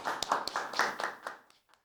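Several people clap for a few seconds at a friendly cooking contest, uneven claps close by and dying away quickly near the end, with no talk over it.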